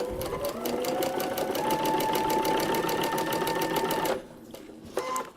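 A sewing machine stitches steadily on a paper-pieced quilt block, its close, even motor hum and rapid needle rhythm running about four seconds before stopping, then a brief restart near the end.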